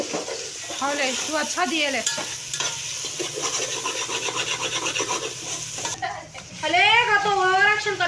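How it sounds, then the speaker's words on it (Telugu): Ground coconut paste fries in a pan as a spoon stirs it, giving repeated scraping strokes over a soft sizzle, with a person talking at times. "ఇప్పుడు మనం గ్రైండ్ చేసి పెట్టుకున్న పేస్ట్ అయితే వేస్తున్నామండి"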